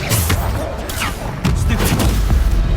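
Bombarda spell blasts in Hogwarts Legacy combat, a dense run of loud booming explosions and thuds layered over continuous battle noise.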